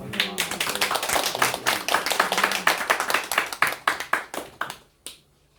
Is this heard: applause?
yes